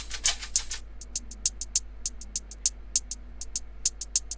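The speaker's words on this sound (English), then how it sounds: "First up, we have this shaker that I layered with another hi-hat that comes in the chorus." Layered shaker and hi-hat pattern in a produced beat: crisp, bright ticks repeating at a quick steady rhythm, close and isolated with no other instruments.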